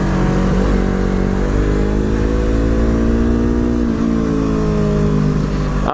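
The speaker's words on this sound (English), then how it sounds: "Engine braking on this bike is really good, really good." A Yamaha R3 motorcycle engine braking, a loud, steady engine drone whose pitch slowly falls as the revs drop, close and continuous throughout.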